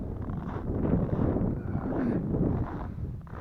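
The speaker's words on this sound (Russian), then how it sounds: "И ветрено тут" Low, rumbling wind in open countryside in the Komi region buffets the microphone steadily, a dull gusty roar with no other clear sounds.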